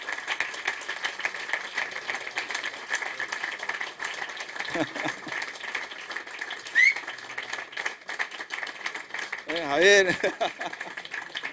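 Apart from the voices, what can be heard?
audience applause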